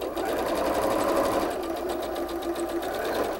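A sewing machine stitching quilt pieces straight across, a steady close mechanical whir with a fast rapid chatter of the needle, loud and continuous with no talk.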